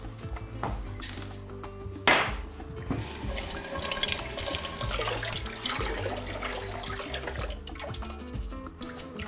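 Bulgur being rinsed under running water for a beef and bulgur soup, a steady splashing flow of tap water with clatter and a sharp knock early on, close and continuous without speech.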